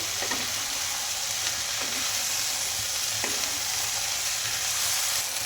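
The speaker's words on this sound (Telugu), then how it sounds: "ఇంకా ఉల్లికాడలు కూడా వేసుకున్న తర్వాత ఒకసారి బాగా అంతా కలిపేసుకుందామండి" Spring onions being stirred into leftover rice in a frying pan, with a steady broadband sizzle throughout and a few soft scraping strokes of the spoon, close and alone without voices.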